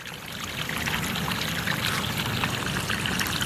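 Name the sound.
water trickling through a DIY pond bog filter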